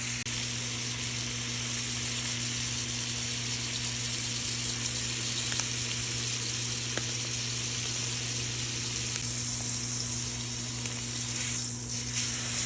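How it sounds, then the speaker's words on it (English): Steak sizzling in a hot pan, a loud, dense, steady hiss that runs unbroken throughout, close up with a faint hum beneath and no talk. "Drop the steak in."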